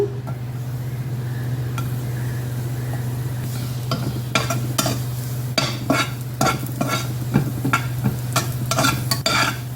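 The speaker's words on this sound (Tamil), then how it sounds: "அந்த புளியும் வதக்கிறேன்" Tamarind sautéed in a pan gives a low steady sizzle, with a spatula scraping and clacking in repeated strokes that grow busier toward the end. No one speaks.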